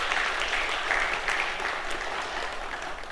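Steady, sustained applause fills a church as the congregation claps together during a Sunday intergenerational worship service, dense and continuous throughout.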